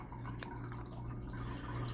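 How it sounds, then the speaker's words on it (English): A cat's automatic water bowl drips and trickles softly over a steady low hum, with faint small droplet ticks scattered through the quiet background. "For my cat's automatic water bowl thing, because he's weird."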